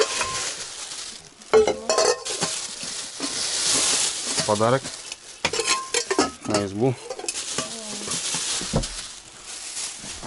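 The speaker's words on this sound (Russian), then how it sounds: "Кастрюльку быстро ставить?" A cooking pot is set on the stove in a taiga forest hut, with scattered metallic clanks and scraping of cookware while people talk nearby.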